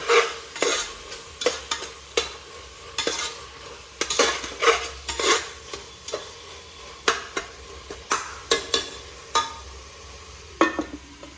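Biryani masala paste fries in a pan while being stirred, with repeated scraping strokes of a utensil against the pan over a steady low sizzle, close and alone throughout.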